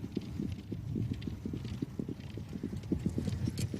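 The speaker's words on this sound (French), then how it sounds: "Et c'est parti pour 40 minutes d'entraînement par poulain sur la piste que Pierre a fait construire lui-même." Trotting colts' hooves clip-clop in a steady, quick rhythm on a purpose-built training track in La Manche, close and continuous throughout.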